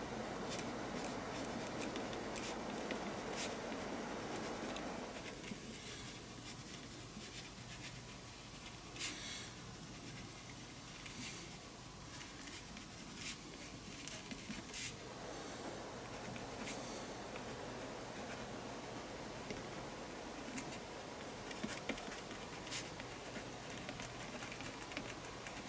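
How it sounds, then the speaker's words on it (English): A ballpoint pen writing on the back of a mixed-media art tag: soft, close scratching and rubbing strokes in uneven bursts over a quiet room, with a pause mid-way before the strokes resume, no voices. "And I'm going to write."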